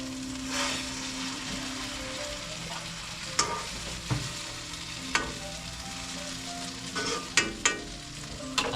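Tortang talong, an eggplant omelette, fries in a pan with a continuous close sizzle. Several sharper scrapes and taps break through as it is stirred or turned, and no one speaks.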